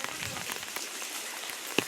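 Heavy daylong monsoon rain falls in a village lane, heard as a faint, even hiss of drops on surfaces, with one sharp close drip near the end.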